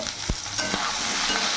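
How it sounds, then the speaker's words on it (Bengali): Eggplant pieces fry in hot oil seasoned with salt and turmeric, giving a constant bright sizzle with a couple of dull stirring knocks near the start. "বেগুনটাকে লাল লাল করে ভেজে নেব।"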